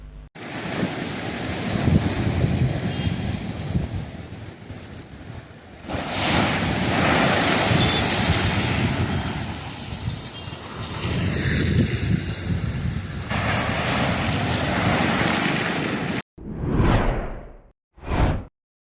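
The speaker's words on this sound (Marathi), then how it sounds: "समुद्र किनारपट्टीवर लाटा उसळत असल्यानं वस्त्यांनाही तडाखा बसलाय" Rough sea waves surge onto the coast of the Ratnagiri region, hitting settlements. A loud, continuous roar swells in bursts, with wind buffeting the microphone, and ends in quick whooshes.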